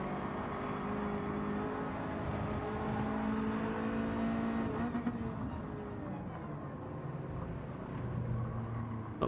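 Race car engine in Gran Turismo 7 during a master licence test, a steady mid-loud drone with shifting engine tones and faint whir throughout, running alone without voices over it.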